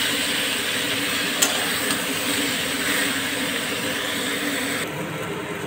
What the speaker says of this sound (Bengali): এঁচোড় ভাজার সময় গ্যাসের ফ্লেমটা বাড়িয়ে রাখতে হবে, আর মাঝে মাঝে এইভাবে নাড়াচাড়া দিতে হবে যাতে তলায় না লেগে যায়।